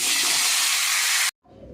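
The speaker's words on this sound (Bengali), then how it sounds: "তেল গরম হয়ে গেছে, মাছটাকে আমি হালকা ফ্রাই করে নেব।" Hilsa fish sizzles in hot oil during a light fry, a loud, steady hiss that cuts off abruptly near the end and leaves a faint low rumble.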